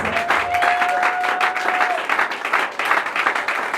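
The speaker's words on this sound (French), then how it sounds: "On l'applaudit très fortement." An audience applauds loudly as a guest makes his entrance at the 40th-anniversary celebration of Espace Kyubo; thick, sustained clapping with a faint steady tone briefly underneath, easing slightly then swelling again.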